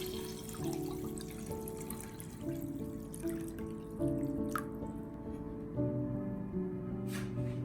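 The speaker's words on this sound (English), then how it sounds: "Now, I pour in 1 liter of filtered water to bind all the nutrients together." Filtered water, about one liter, pours into a cooking pot for a herbal throat-soothing drink, giving a steady liquid splash and trickle with a few drip-like accents, moderately close and alone without talk.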